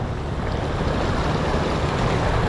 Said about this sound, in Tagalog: yan na ilog, ang lakas ng agos, tapos ang labo.